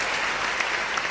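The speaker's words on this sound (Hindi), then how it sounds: "जितने लोग यहाँ बैठे मुझे अपनी तालियों से बताएं कि आप सुनना चाहते हैं" An audience applauds at a Hindi comedy poetry gathering, a hasya kavi sammelan. The clapping is dense, moderate and continuous throughout, with no voices over it.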